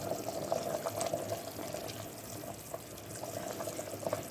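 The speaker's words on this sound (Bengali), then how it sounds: "তার আগে আমি দিয়ে দেব একটু গাওয়া ঘি।" Ghee poured into a pressure cooker of rajma gives a soft, steady liquid trickle with faint bubbling, quiet and alone.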